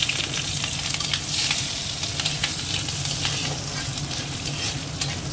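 Grated coconut, cumin, dried red chillies and chopped green chillies fry in hot oil with a steady, dense sizzle that runs unbroken throughout, faint stirring scrapes mixed in.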